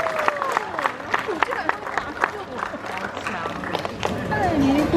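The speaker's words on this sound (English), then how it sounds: "Let's give her a round of applause." An audience at the Tiger Island tiger show at Dreamworld on the Gold Coast, Australia, claps in scattered, moderate applause that swells toward the end, while a voice talks over it.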